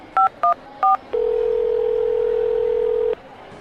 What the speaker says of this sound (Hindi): उसने फोन मिलाया।